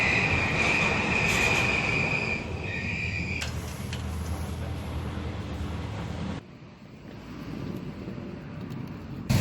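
Rumbling train noise with squealing wheels and a high metallic whine, loud and steady, then dropping away as the car shifts, no voices.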